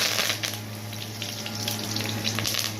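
Mustard seeds with fenugreek and urad dal spluttering in hot oil in a kadai, giving a dense steady sizzle scattered with sharp crackling pops, close and fairly loud.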